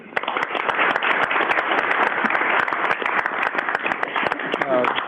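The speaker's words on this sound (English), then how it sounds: "let's give one more huge round of applause for all of our award recipients this evening" Audience applause at a city council meeting for the evening's award recipients, a loud sustained wash of clapping with a voice faintly audible beneath it near the end.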